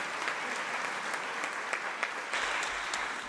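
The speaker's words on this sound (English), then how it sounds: "I think we need another round of applause" Conference audience applauding during an opening plenary session in Nairobi, a continuous, even patter of many hands clapping throughout, with a few sharper claps standing out.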